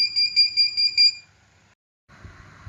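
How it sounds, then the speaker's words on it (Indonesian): An electronic buzzer on a distance-sensor project sounds five quick, evenly spaced high-pitched beeps, then falls silent before a faint rustle of handling noise. "apabila jaraknya di bawah 2 cm, maka buzzer akan berkedip cepat"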